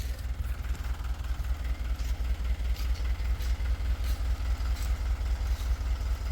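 A Hino tow truck's diesel engine idles steadily after a turbo replacement and new exhaust work, a loud low rhythmic throb with light clatter running evenly throughout.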